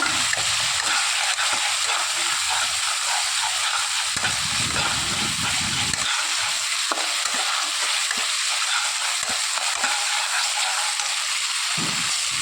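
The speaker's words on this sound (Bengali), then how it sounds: "আদাটাকে একটুখানি তেলের সঙ্গে জাস্ট কষিয়ে নেবো, কাঁচা গন্ধটা চলে যাওয়ার জন্য" Ginger paste frying in a little oil for a Bengali fish curry, a bright continuous sizzle and hiss with low scraping thuds of stirring coming through in places.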